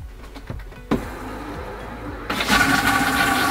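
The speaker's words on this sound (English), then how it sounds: "That's a pretty violent flush." RV toilet flushing during winterizing, a sudden sharp clunk of the valve followed by a loud, forceful rush of water that swells near the end, heard close up.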